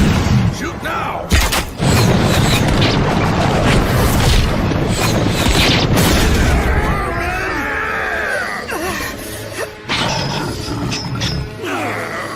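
Loud booms, rumbling blasts and crackling gunfire fill an anime battle scene, dense and continuous at first, with shouting voices, then easing into scattered impacts.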